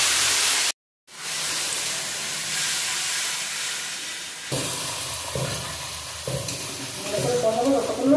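Loud hissing sizzle of chilli paste, salt, turmeric, cumin and chilli powder frying in hot oil until the oil separates, briefly cut off, then resuming with stirring clatter and scraping.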